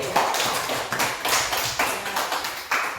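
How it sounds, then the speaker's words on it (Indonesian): Pupils in a class of fifth-graders clap their hands together in a quick, uneven burst of sharp claps, close and moderately loud, with no one talking over it. "Tepuk tangan lagi."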